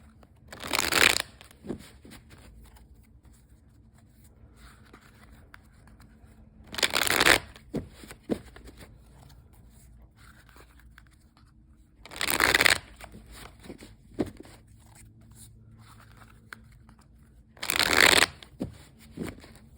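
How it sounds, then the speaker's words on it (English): A deck of tarot cards is shuffled in four separate bursts spaced about five seconds apart, crisp riffling close up, with quiet pauses between. "I will shuffle the first deck just a few more times, split the deck, and then we'll begin your reading."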